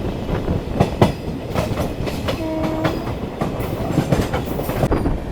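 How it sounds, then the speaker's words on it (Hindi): Poorva SF Express train running on rails, with steady rumble and clickety-clack of wheels passing rail joints, close and continuous, a brief tonal squeal in the middle. "ये देखो फाइनली हमारी पूर्वा एक्सप्रेस ने शुरू कर दिया है रफ्तार"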